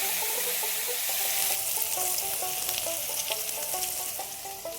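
Food frying in a pan for a traditional Koch Rajbongshi village dish, a loud continuous sizzle close up with faint stirring scrapes throughout and no talking.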